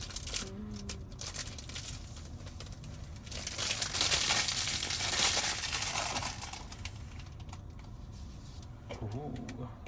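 Crinkling and rustling of Tesla key card packaging being opened close up, swelling louder midway, with someone speaking intermittently over it.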